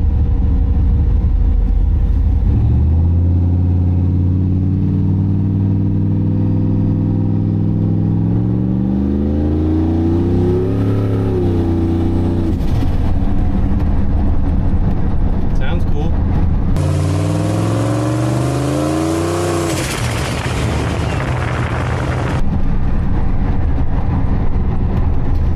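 Car driving after a fuel injector swap, a loud engine rising and falling through gear changes with steady road and cabin noise, and someone talking over it.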